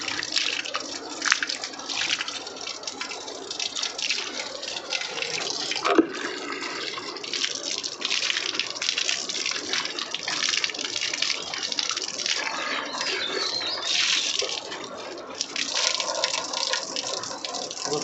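Water pours and splashes steadily over a small snake temple as it is bathed, a continuous rushing flow close by with faint voices in the background.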